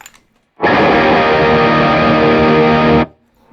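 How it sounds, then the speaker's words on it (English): A PRS Custom 24 electric guitar on its humbucker pickup, plugged straight into an Archon amp, rings out as one loud sustained distorted chord for about two and a half seconds before cutting off abruptly. "I can start with just a humbucker right here."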